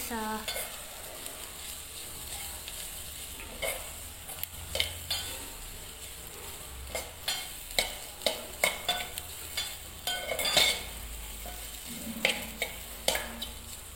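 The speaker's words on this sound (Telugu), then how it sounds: "సో దీన్ని బాగా కలుపుకోవాలి" Egg curry frying in a pan is stirred with a utensil, giving a steady sizzle broken by repeated scraping and clinking strokes against the pan, close and with no talking.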